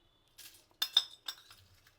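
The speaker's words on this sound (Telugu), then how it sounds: "ఇలాచీలు 4 టీ స్పూన్లు వేస్తున్నా, మీకు టీ స్పూన్ తోటి చెప్తున్నా" A metal teaspoon clinks against a container while whole cardamom pods are scooped and measured for a chicken masala spice blend: about five light, close clicks spread unevenly over two quiet seconds, with no talk.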